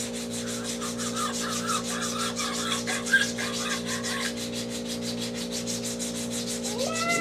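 Corners of a wooden Pinewood Derby car are being sanded by hand. The rubbing strokes are steady, rapid and rhythmic, heard close up for several seconds with nobody speaking.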